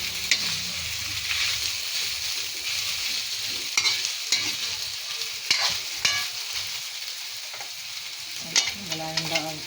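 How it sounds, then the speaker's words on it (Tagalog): Chopped onion and garlic sizzle in hot oil as a utensil stirs them through the pan, a steady frying hiss punctuated by scraping and clinking stirring strokes, with no talk. "haluin ko para maluto siya sa mantika. Saka para magsama-sama yung lahat ng sibuyas at saka bawang."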